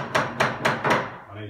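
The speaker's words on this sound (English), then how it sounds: "And then you knock it with a hammer." A hammer strikes a tapered wooden wedge into a pine wardrobe: four sharp, evenly spaced knocks, close and fairly loud, with no talk.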